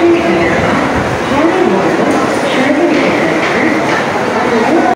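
A train pulling into a crowded platform at a railway station on the Howrah chord line, a loud steady rumble and rattle of carriages with voices talking over it.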